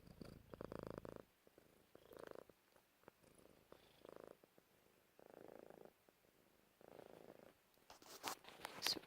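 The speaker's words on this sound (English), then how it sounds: "she's purring super loud" A cat purrs close by in a steady rumbling rhythm, swelling in repeated breaths with brief quiet gaps, ending with a few rustling sounds.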